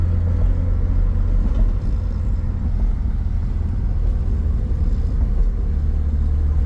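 A carbureted 12A rotary engine swapped into a 1990 Mazda Miata rumbles on at a steady, low, throaty drone, close and fairly loud throughout.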